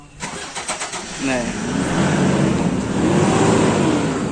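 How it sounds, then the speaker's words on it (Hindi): A car engine cranks in a quick series of starter pulses, catches and settles into a steady idle before revving as the car pulls out, with people talking nearby. "भैया गाड़ी निकाल रहे अभी"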